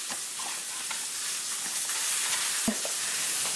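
Sliced onions frying in a pan with bacon, a dense continuous sizzle and hiss heard close up, with a single soft knock near the end and no voices.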